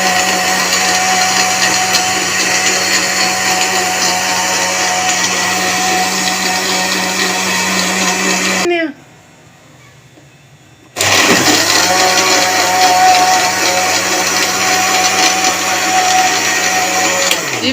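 A blender loudly grinding falsa berries for juice, with a steady motor whine that cuts off briefly, pauses in near silence, then roars back up to full speed.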